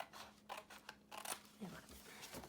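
Scissors snip and rustle through the top of a homemade paper gift bag in short, quiet cuts close by, with a person speaking softly alongside.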